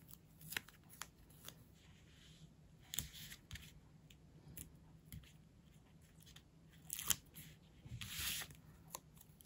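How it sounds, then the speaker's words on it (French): Scissors snip through small pieces of craft paper, a few quiet close cuts and rustles spread over a near-silent background. "c'est un tout petit peu plus grand, donc on va couper."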